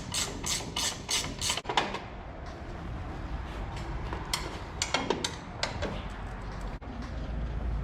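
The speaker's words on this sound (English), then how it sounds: "Do the nuts on the strut top up tight." Nuts being tightened on a strut top during a TJM lift kit install on a Dmax/Colorado, with rapid ratcheting clicks in short bursts at the start and again midway, close up over a steady workshop hum.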